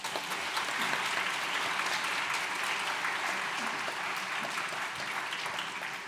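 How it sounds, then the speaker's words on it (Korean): A church congregation gives sustained applause of thanks during a Sunday morning service, dense steady clapping filling the room at an even level for several seconds. "감사의 박수를 좀 드릴까요?"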